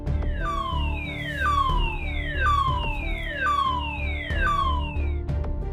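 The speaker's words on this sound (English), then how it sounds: "Fire siren." A loud, repeating fire alarm siren at a petrochemical plant in Saudi Arabia, sweeping downward in pitch about once per second, each falling wail restarting high, over a steady low hum.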